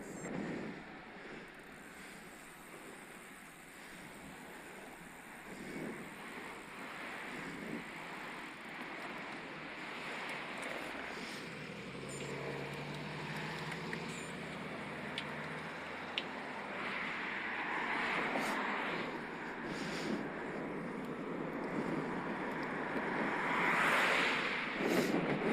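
Steady breezy wind rushes across the microphone while riding a Scott Addict RC eRide 20 road e-bike on a road near the Peak District hills, a continuous broadband roar with gentle swells and no talk.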